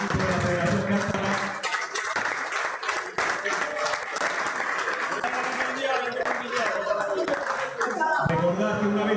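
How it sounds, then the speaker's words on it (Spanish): Applause for the Federación Castara team at a Galician club spearfishing championship: steady, dense clapping runs throughout at a loud level, with voices talking over it. "Un fuerte aplauso para el equipo de la Federación Castara."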